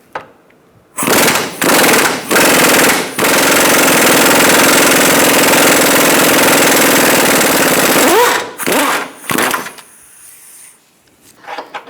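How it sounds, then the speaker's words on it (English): Power tool driving a 19 mm swivel socket on an extension to back out a lower control arm bolt on a 2002-2006 Honda CR-V, heard as several short loud bursts followed by a long continuous rattling run, then more short bursts. "Now we're going to use an extension with a Swivel 19 to get the bolt out completely."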